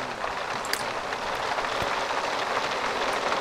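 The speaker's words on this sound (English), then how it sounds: "It's hailing outside." Hail falling outside in The Sims 3 Seasons, a continuous dense patter of pellets striking the ground, with a few sharper individual hits scattered through the steady wash.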